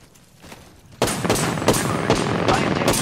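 Automatic gunfire from the Apex Legends video game erupts after a quiet first second, rapid bursts of shots repeating loudly and close with game voice lines over them.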